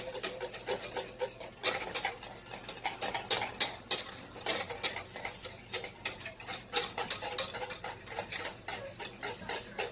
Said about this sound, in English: Constantly whisking,